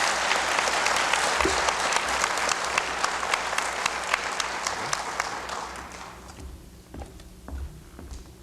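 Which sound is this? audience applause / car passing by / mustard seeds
audience applause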